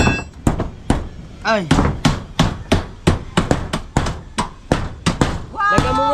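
A hammer strikes a roof in a steady series of sharp, loud blows, roughly two per second, close by, while people talk and exclaim in between the hits.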